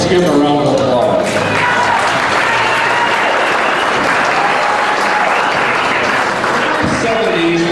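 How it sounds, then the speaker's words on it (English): Sustained applause from a crowd at a small-town Sauerkraut Days kickoff event, dense steady clapping filling the whole stretch with some voices mixed in, loud and continuous. "Let's give him a round of applause"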